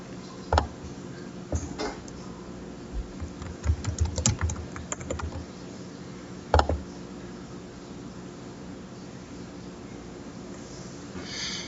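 Keys tapped on a computer keyboard while a password is entered during a server setup, a sparse run of light clicks with a few quick bursts and a sharper isolated keystroke, close and alone in a quiet room.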